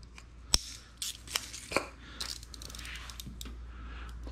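Scissors snipping through window tint film while trimming a pattern for a 2020 Ford Mustang, a few sharp close cuts and clicks scattered over about four seconds in a quiet room.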